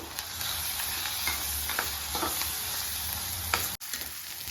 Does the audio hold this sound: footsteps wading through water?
no